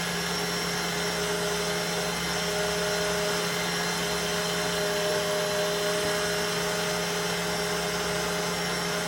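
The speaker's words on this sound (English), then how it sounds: "So you also whisk it to make it whiter" Electric mixer whisking butter frosting for cinnamon rolls, a loud steady motor whir with a constant high whine that runs unbroken and close.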